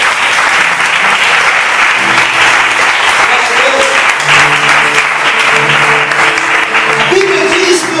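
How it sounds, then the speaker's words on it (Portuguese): A church congregation claps loudly and continuously during a sermon, dense applause filling the space with sustained sung or shouted voices rising through it. "Você pode aplaudir o Senhor Jesus?"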